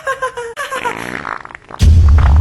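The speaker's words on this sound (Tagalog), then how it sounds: "Ang baho, Mare. Umutot ka ba?" A loud, low rumbling fart erupts after a moment of quieter, squeaky sounds, booming close and sustained to the end.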